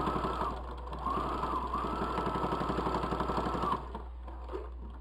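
A pedal-driven sewing machine sews fabric for a bowl cosy, a fairly quiet, rapid rhythmic chatter of stitching for a few seconds over a low steady hum, then slowing to a stop.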